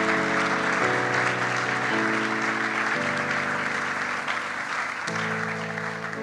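A church congregation applauds steadily and loudly for several seconds, the clapping carried over sustained organ or keyboard chords that shift as the music changes.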